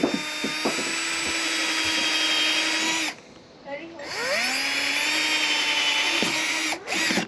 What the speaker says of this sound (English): take a 1/4 inch drill bit and go all the way through